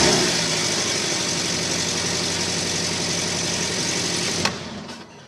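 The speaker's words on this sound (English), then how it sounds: "This is a Porsche 718 Boxster" A Porsche 718 Boxster sits idling, a steady even engine hum and rumble running throughout before a brief clunk near the end.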